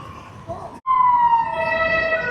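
A fire engine siren wails from the opposite side of a street in Scarborough's town centre, with a wavering tone that cuts out briefly before sounding steady and clear at moderate distance.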